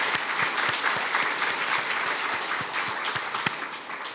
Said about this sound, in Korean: 다시 한번 하나님께 감사의 박수를 올리겠습니다